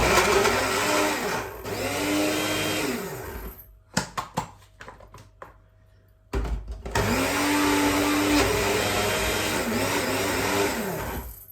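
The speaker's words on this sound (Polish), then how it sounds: "W tym momencie blender ręczny" A hand blender whirs loudly while blending an avocado and Nutella-style cream, its motor pitch rising and falling in bursts, pausing midway amid clattering knocks, then resuming strongly.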